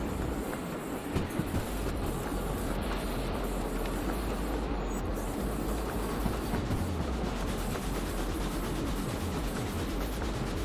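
A long train rolls steadily along the track in the Derail Valley train simulator, giving a continuous, loud rumble and rattle with no pauses and no voices.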